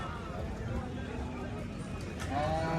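Cows and buffaloes low at a busy livestock market in Dhanaula, Punjab, a drawn-out moo rising near the end over murmuring voices and crowd noise.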